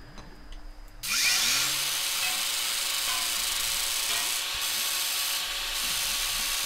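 A grinder in the Gas Station Simulator Junkyard DLC video game starts abruptly and runs as a loud, steady, rough grinding whir with a slight scraping texture and no talking.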